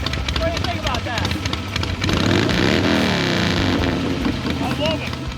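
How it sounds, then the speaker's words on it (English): A kick-started motorcycle engine idles and revs nearby at a motorcycle show, its uneven throb rising and falling beneath people talking and laughing. "Now we can say you kick-started a motorcycle in the last 2 minutes."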